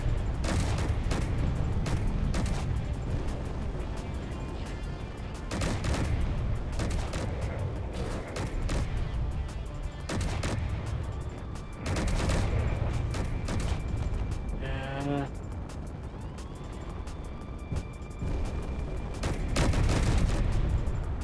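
Ship-mounted weapons fire in the space game Space Engineers, producing repeated heavy bursts of gunfire and booming shots over a dense, continuous rumble that lasts about twenty seconds, loud and close.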